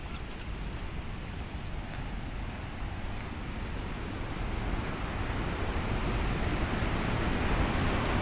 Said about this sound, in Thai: น้ำไหลออก